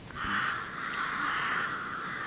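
Crows caw near a dried-up, disused stone well in the Irish countryside, a single harsh, drawn-out call held steady and fairly close, with no one speaking.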